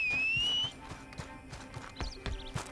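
A horse's hooves clop toward the player in Red Dead Redemption II Online: a sharp whistle opens, then a steady run of moderately loud hoofbeats with occasional brief chirps over them.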